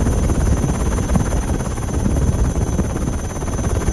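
Helicopter flying over a flooded area on a food-delivery mission, a steady loud rotor drone with constant thrumming and no voices.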